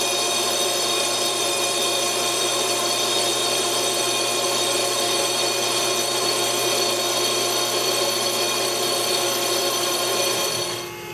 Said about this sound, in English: here I have my sanding disc mounted on my lathe so that I can true it flat